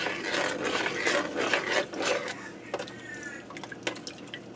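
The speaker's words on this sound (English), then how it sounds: "Let me give this a stir." A spoon scrapes and stirs a thick ham pot pie mixture in a pressure cooker pot, giving quick clattering and wet sloshing strokes that fade into scattered lighter clicks, close and fairly quiet.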